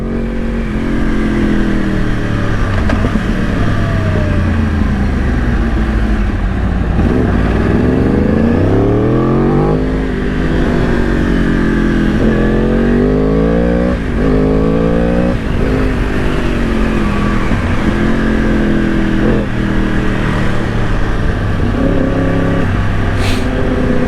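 Yamaha R1 superbike engine revving while riding, loud and close throughout, with rising and falling pitch as the rider works through the gears over constant wind roar.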